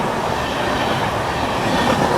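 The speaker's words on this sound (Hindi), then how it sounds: "सीआर राजधानी ओवरटेक कर रही है मुरैना रेलवे स्टेशन पर गोंडवाना सुपरफास्ट एक्सप्रेस को।" A CR Rajdhani train overtakes the Gondwana Superfast Express at Morena railway station, a loud, steady roar of rolling carriages and clattering wheels passing close by with no voices.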